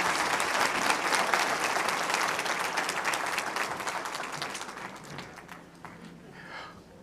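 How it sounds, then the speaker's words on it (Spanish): Church congregation applauding at a Sunday service, a dense sustained clapping that tapers off toward the end. "Demos un aplauso a Adriana Ramírez."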